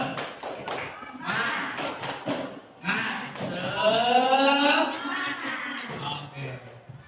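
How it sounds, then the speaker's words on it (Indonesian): A classroom does the 'tepuk semangat' spirit clap, a rhythmic sequence of sharp claps at the start, then children chanting in unison, with more clapping and voices mixed in close by. "Tepuk semangat"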